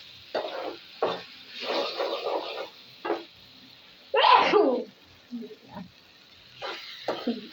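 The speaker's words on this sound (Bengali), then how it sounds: "হাঁচি চলে আসছে।" A single sharp, loud sneeze from frying chilli fumes bursts out midway, surrounded by soft kitchen noises of stirring and frying.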